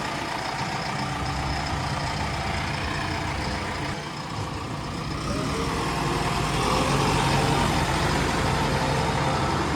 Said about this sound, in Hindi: तो सबसे पहले अपन मशीन को निकलवा देते हैं। हो भाई चालू।